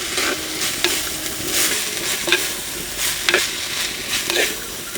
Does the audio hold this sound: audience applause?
no